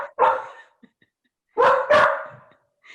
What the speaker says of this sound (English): I unmute the dog again.